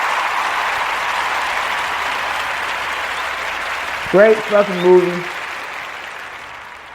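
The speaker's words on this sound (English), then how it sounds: "Round of applause." Applause and cheering from a crowd after a shout-out to a movie runs steadily throughout, with a voice briefly speaking over it near the end.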